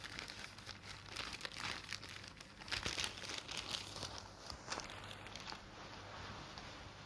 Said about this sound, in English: You may check the contents of the plastic bag by the door.